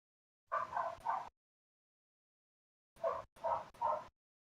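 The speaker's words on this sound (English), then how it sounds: "If you can hear those dogs barking in your neighborhood, Jedi" Dogs barking in two bursts: a couple of quick barks, a pause, then three more sharp barks in a row, moderately close with no talking.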